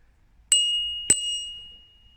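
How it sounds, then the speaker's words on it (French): Two bright rings of a bicycle bell, close and clear, each chime fading out slowly against near silence. "Ceci est une sonnette."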